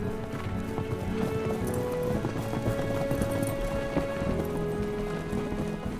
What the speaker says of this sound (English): Their working animal is the Maremmano, a horse known for its sure-footedness and agility in difficult terrain